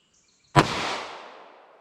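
A single sharp revolver-style shot from a .38 Special +P 125 grain XTP handload, fired outdoors, loud and close with a brief echoing decay.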